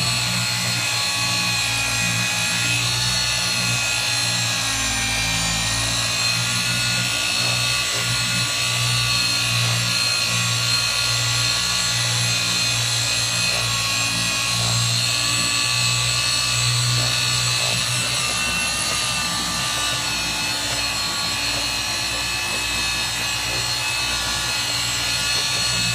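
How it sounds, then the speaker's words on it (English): An electric polishing machine buffs swirl marks and micro scratches out of car paint at an auto body shop, a steady close whirring drone that holds unbroken throughout with no talking. "all he's doing is holding that machine on there and letting it do what it does"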